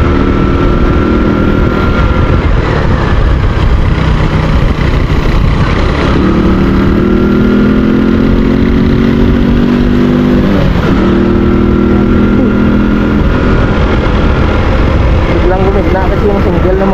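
A motorcycle engine drones steadily during a ride, with pitch shifts as it accelerates and eases off, partly masked by wind buffeting; a rider talks over it at times.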